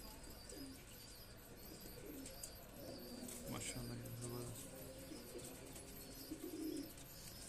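Domestic pigeons of the Dubaz, Rampuri and Teddy breeds coo softly at a distance amid steady background noise, with someone talking over them and a few faint chirps.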